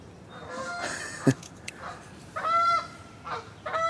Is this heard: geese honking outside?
yes